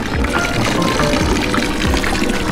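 Drinkable water pours steadily from a public fountain in a Basel city-center square, a continuous close splashing and trickling that runs throughout without pause.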